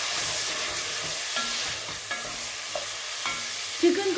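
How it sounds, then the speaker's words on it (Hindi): Chicken pieces fry with tomatoes in a pan, giving a soft continuous sizzle broken by gentle scraping stirs of a spoon and a few light clinks, fairly quiet throughout. "चिकन को भूनना है ताकि इसका कलर चेंज हो जाए।"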